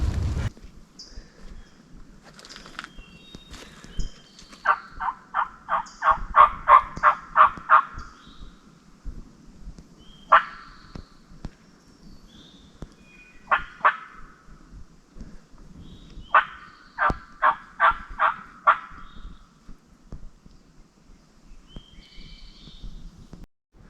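Wild turkeys gobble repeatedly in Pennsylvania woods during a hunt, rattling bursts rolling in from a moderate distance, one long volley then single calls and another rapid run, with no talking over them.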